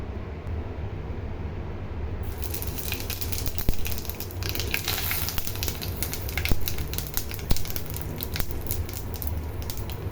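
Potatoes frying in a pan of oil for a Bengali fish curry: a steady, noisy sizzle and crackle that suddenly grows louder after a couple of seconds, then carries on with occasional pops and sharper crackles.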